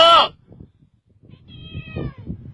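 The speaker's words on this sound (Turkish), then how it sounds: "bu kedilerin bir derdi var" A cat gives a loud, close meow at the start, followed by quieter low rumbling and a second, longer drawn-out meow near the end, with construction workers on site.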